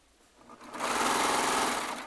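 A Baby Lock Triumph serger spins up from quiet into a fast, steady whirring stitch run, loud and close, then starts to ease off at the end.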